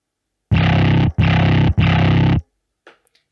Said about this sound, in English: a Logic amp, which was one of those presets which is Little Big Distort. And it starts sounding really gritty